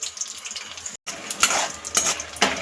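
Peanuts frying in oil in a wok make a bright crackling sizzle with scraping stirs and small clinks, close and steady apart from a brief gap, with no talk.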